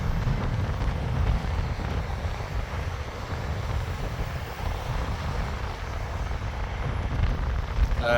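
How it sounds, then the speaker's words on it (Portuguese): Strong wind buffets the microphone in a continuous low roar and rumble, gusting louder at times, with no voices. "Tá ventando muito, tá muito frio aqui."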